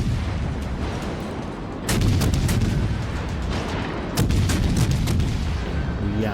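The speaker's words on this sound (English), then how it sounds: "We misjudged a couple of shells there, a couple of salvos" Naval artillery salvos in the World of Warships: Legends video game, two heavy booming bursts of shellfire over a loud, constant rumble of battle noise.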